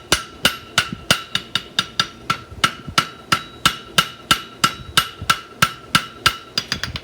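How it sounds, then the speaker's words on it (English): Steady hammer blows on metal over an anvil horn, using the hammer's edge, about three strikes per second, each sharp and bright with a metallic ring, close and loud. "use the edge of the hammer again."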